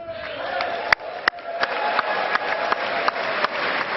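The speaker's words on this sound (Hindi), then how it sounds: "तालियों की गड़गड़ाहट और मोदी के शोर से सदन गूंज रहा था" Steady applause fills the US Congress chamber for Indian Prime Minister Narendra Modi, with sharp claps and crowd noise rising across the hall, rhythmic louder claps punctuating a continuous roar.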